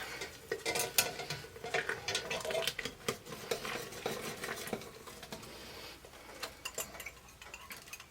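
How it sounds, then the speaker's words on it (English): A whisk works gravy mix into a boiling pan, giving a close, busy patter of quick metallic scrapes and taps against the pan with liquid sloshing, continuous for several seconds. "So into this boiling pan, I am just going to whisk this mix."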